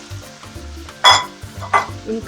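Chopped tomatoes hit hot oil in a pan for an eggplant curry and sizzle softly, with two sharp bursts of frying as a spoon stirs. A voice speaks briefly.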